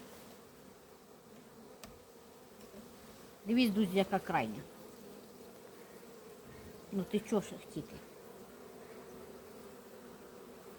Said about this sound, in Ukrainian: Дивіться, повністю рамка бджоли.